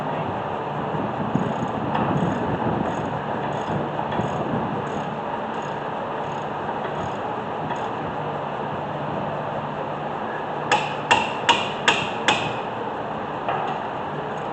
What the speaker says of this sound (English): Only reason why I hit these mounting brackets with the hammer